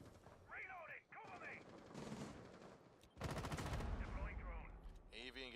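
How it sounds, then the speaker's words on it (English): Shotgun blasts in Rainbow Six Siege, a competitive match on the Skyscraper map, booming over a caster's voice and game effects, with one heavy burst of fire midway amid busy in-game sound. "Gets a nice shotgun kill into Fox, though."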